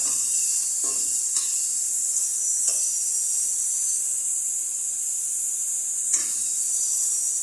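A loud, constant high-pitched hiss from a pressure cooker cooking meat fills the whole stretch, steady and unbroken, with a few faint knocks underneath and no voices.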